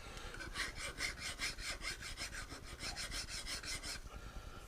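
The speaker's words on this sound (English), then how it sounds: "I make sure there's no standing burr or anything. So I clean all that off." Hand file or scraper deburring and cleaning a steel part just cut with a face mill, giving a rhythmic series of close, bright rasping strokes at a steady back-and-forth pace with no talk.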